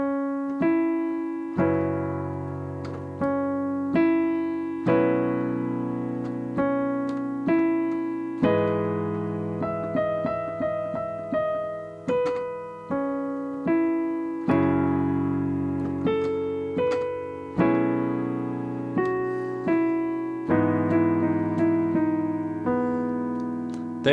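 Solo piano plays 2-5-1 jazz chord changes from a song from Wonka, with a melody line on top, rolling sustained chords at a steady relaxed pace with no talking.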